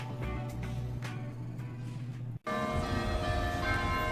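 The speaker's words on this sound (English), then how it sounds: "I couldn't believe my ears as these church bells pealed out across town." Church bells peal across a town in Carlisle, ringing steadily and fairly loudly, with a brief break before a fuller ringing resumes.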